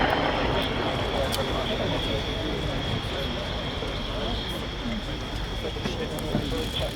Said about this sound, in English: that's really impressive performance from this new 4-turboprop